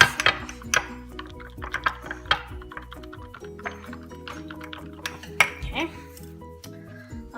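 A spoon or whisk clinks and scrapes against a bowl while cake batter for mini vanilla heart cakes is mixed, giving irregular metallic taps and rattles at close range.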